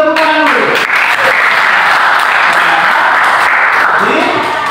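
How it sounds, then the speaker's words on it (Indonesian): A school class in Indonesia bursts into loud, close group clapping that fills the room evenly, after a brief voice at the start. "Bagus sekali, tepuk tangan dulu."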